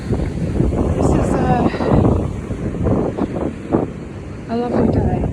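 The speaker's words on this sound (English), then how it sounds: "It's windy" Strong wind buffeting the microphone outdoors on a cloudy, dry day in the UK, a continuous close rumble with someone talking over it.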